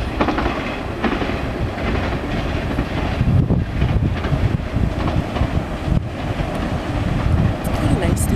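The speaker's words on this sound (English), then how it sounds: "My God, lots of trains." Trains rolling past in a rail cutting, a loud continuous rumble with clickety-clack from wheels over the track and gusts of wind noise on the microphone; a person speaks briefly over the passing train.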